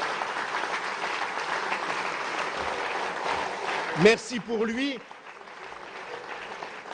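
Applause from a political rally audience for François Bayrou runs as a dense, even patter under a speaking voice, then a brief louder voice breaks through and the clapping thins out near the end.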